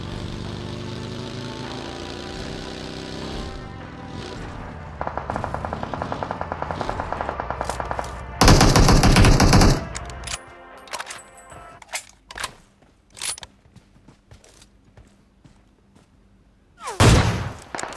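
Gunfire in a battle royale video game: bursts of rapid automatic shots, a loud close blast, then scattered single shots over engine hum from a buggy, ending with another loud burst.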